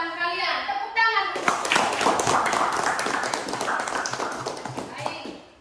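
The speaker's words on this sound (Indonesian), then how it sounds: "Tepuk tangan." Children in a classroom clap their hands together in a burst of rapid, overlapping claps that continues steadily for several seconds, following a teacher's short spoken prompt.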